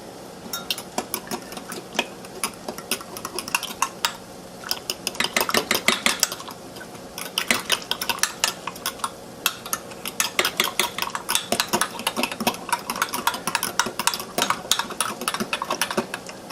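Flour mixed thoroughly in a bowl, a fast run of close clinking and scraping strokes of utensil against the bowl that keeps going in dense bursts, with no talking.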